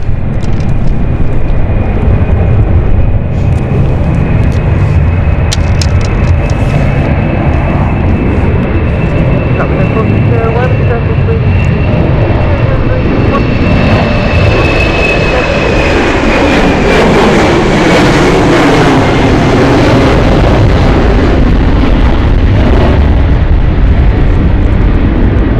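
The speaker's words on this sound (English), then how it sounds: "Dublin flight taking off right now." A Dublin-bound jet takes off from London City Airport on a stormy night, a loud, continuous roar with a rising engine whine that swells midway through and carries on to the end over heavy background rumble.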